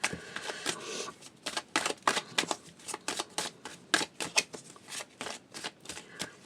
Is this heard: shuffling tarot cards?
yes